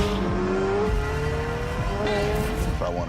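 A Chevrolet Corvette Z06 with a naturally aspirated flat-plane V8 revs hard in a steady, loud, raspy drone whose pitch sweeps slowly upward, with a person talking over the engine.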